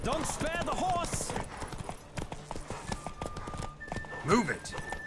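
Galloping hooves from a horse race in The Witcher 3 video game keep a quick rhythm beneath louder voices calling out, with a horse whinnying briefly near the end.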